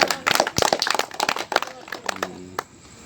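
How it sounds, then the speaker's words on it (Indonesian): Scattered hand clapping from a small gathering at a scout troop anniversary event, a burst of sharp claps that thins out within about three seconds, with a faint voice near the end. "Oke, tepuk tangan."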